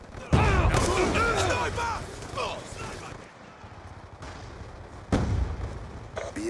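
A grenade blows up in Black Ops 2 on the Nuketown map during a Domination match: a heavy blast with a later second boom, amid shouting game voices and ongoing battle noise.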